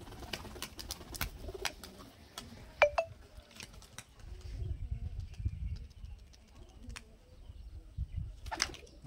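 Giribaj roller pigeons cooing in a loft, soft low coos that come and go, mixed with sharper bird chirps, a few wing flaps and brief background sounds, with no speech.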